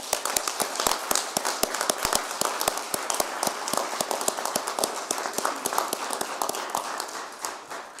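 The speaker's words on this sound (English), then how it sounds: "Let's give them another nice round of applause" A round of applause from a crowd at a mayor's news conference, dense rapid hand claps sustained throughout and fading slightly toward the end, with no talking over it.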